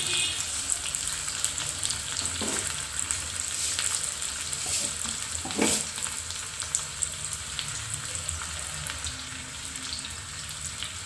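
Shallots, curry leaves and dried red chillies sizzle steadily in hot oil for a tempering, a continuous close crackle with a few sharper pops and no talking.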